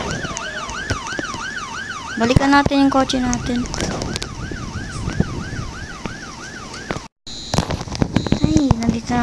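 A police siren in Roblox Brookhaven wails in a rising and falling pattern, loud and close, then breaks into bursts of sharp pops, with a voice talking over it.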